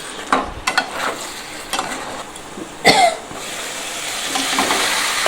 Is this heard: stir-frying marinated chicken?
yes